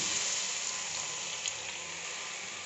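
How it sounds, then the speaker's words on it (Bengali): Fish curry gravy bubbles at a steady boil in a pan, a close, even hiss of fizzing and popping with no voices, ending abruptly. "আমার ঝোলটা ফুটে গেছে"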